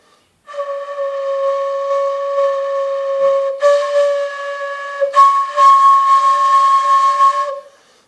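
A flute blown across the mouthpiece gives a steady, breathy tone with a clear pitch, sustained for several seconds, shifting to a slightly different note twice, with airy hiss over it.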